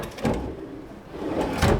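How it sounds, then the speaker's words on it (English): Soft-closing kitchen cabinet drawers in a residential condo unit, heard as two muffled, cushioned slides and thuds close by, about a second and a half apart, with no talking. "All your drawers, soft closing, awesome."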